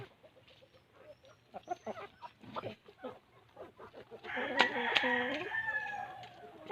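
Black Australorp chickens clucking with a rooster crowing partway through, against a farmyard background with some voices nearby.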